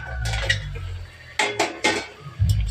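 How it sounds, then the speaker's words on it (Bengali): Lid lifted off a pot of simmering potatoes for a cauliflower curry, heard as a few close metallic clanks and scrapes of lid against pot over a low background hum. "ঢাকাটা খুললাম।"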